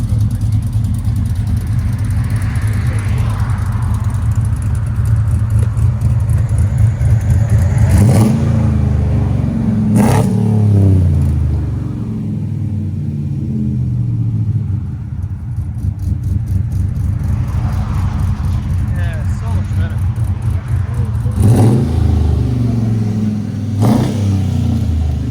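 A cammed Chevy/GMC 5.3L V8 with headers and aftermarket exhaust idles with a loud, lopey rumble, then revs sharply several times, each blip rising and falling back to the choppy idle, close by.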